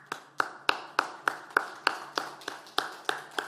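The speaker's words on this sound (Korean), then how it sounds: "제가 여러분께 하나님의 응원을 담아서 박수를 쳐드리도록 하겠습니다." A pastor claps his hands before his congregation, a dozen sharp, evenly spaced claps in a steady rhythm, close and clear with no talking.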